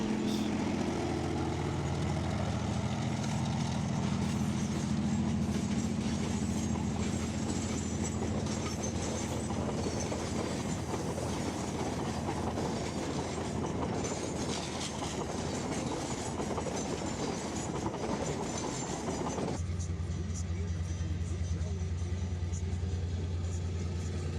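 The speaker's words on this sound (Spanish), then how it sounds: "registraron las que serían las últimas operaciones del ferrocarril de Potrerillos" A train on the Potrerillos railway in Atacama, Chile, rumbles past at close range with continuous wheel noise and clickety-clack, loud and unbroken, shifting to a lower, steadier roll near the end.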